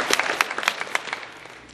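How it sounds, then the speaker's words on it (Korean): Church congregation clapping together during a Sunday worship service, a brief burst of dense applause that peaks early and then tapers off, fairly close and moderately loud, with no talk over it. "힘이 들어 박수 한번 쳐드리죠"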